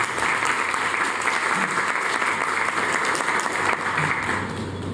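Sustained applause from the audience at a law faculty book presentation on succession law, dense and steady for the full five seconds, loud and close with no speech over it.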